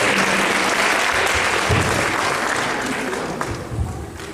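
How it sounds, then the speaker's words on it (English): An audience at a cultural programme in Gaborone, Botswana, gives young performers a dense, sustained round of applause that fills the room, then slowly tapers off. "Please give our young performers another round of applause."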